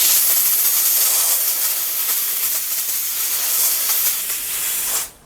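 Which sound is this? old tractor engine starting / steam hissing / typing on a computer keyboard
steam hissing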